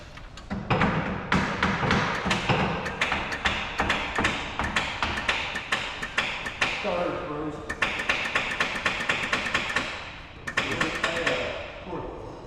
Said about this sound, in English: Alright, hammering on the starter now.